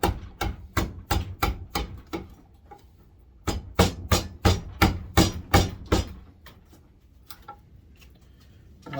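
Steel chisel struck by a hammer while hollowing out a homemade hide breaker: two bursts of sharp, evenly spaced blows, loud and close, separated by a short pause, then a few lighter scattered taps.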